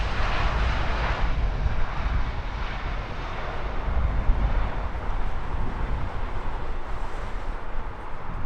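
An Airbus A350 passes at Heathrow Airport with a broad, roaring jet engine rumble that holds loud and steady throughout, with no voices over it.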